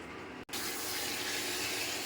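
Water pours steadily into a pot of fish curry, a continuous broad splashing gush after a brief pause at the start, close and fairly loud with no talking.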